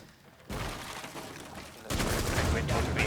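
Rapid sustained gunfire spraying in a Rainbow Six Siege pro league match, loud dense bursts starting after a brief lull and intensifying toward the end, with a voice faintly mixed under the shots.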